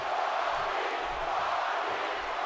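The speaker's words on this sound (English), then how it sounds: "The crowd again getting behind the People's Champ." A video game arena crowd in WWE 2K18 roars for The Rock, a dense, steady wash of cheering that stays constant and fairly loud throughout, with no clear voices on top.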